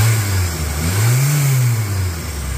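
A 1996 Toyota Tacoma engine revs steadily up and back down, a loud close mid-pitched rise and fall with no talking over it.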